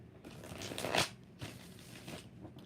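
A deck of tarot cards is shuffled by hand in a few quiet bursts, with soft papery riffling and flicking that swells near the start and recurs more faintly after.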